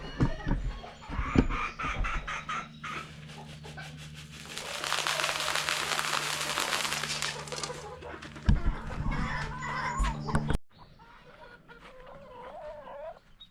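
Homestead hens cluck in bursts amid a busy barnyard, with a steady low hum beneath and a brief break before quieter bird sounds near the end.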